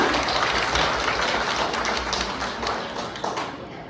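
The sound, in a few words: audience applause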